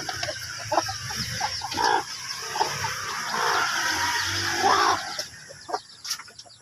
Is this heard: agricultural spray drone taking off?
no